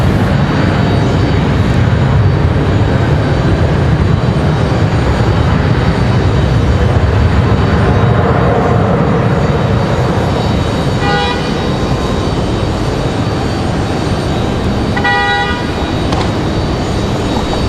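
Loud, steady jet engine roar from Copa and Delta airliners on parallel runways at Raleigh-Durham International Airport fills the whole stretch, with no talk over it.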